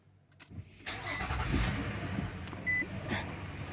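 A car engine with a weakening battery cranks and fires up, then runs at a low steady rumble, heard fairly quietly with no talking.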